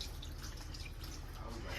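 About a cup of water poured into a cooking pot while making peach tea, a steady splashing, trickling stream heard up close for a couple of seconds.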